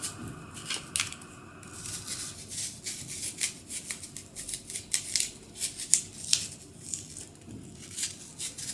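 A Granny Smith apple being sliced for apple nachos, crisp irregular crunching cuts and knife taps repeating across several seconds, close by and moderately loud, with no talking.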